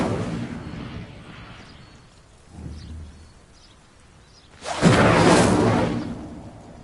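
In Hogwarts Legacy, the Incendio fire spell is cast. A faint whoosh is followed moments later by a loud, roaring burst of flame that swells and slowly fades.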